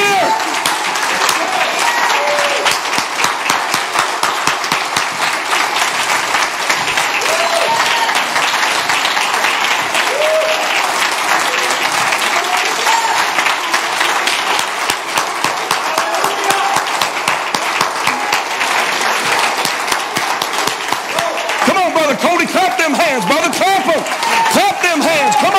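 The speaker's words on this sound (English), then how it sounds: "Now clap your hands unto the Lord." Church congregation clapping hands during a Sunday morning service, a dense continuous roar of many hands sustained throughout, with voices rising and singing mixed in near the end.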